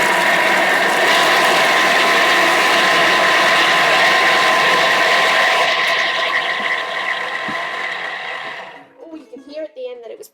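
A food processor blitzes carrot cake energy ball mixture at a higher speed, a loud continuous grinding whir with ratcheting texture that runs steadily, then winds down and stops near the end, followed by a few faint clicks.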